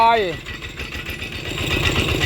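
A small walk-behind tractor engine chugs steadily with a rough, rhythmic putter while plowing furrows for vegetable beds, close and loud, with a brief voice at the start.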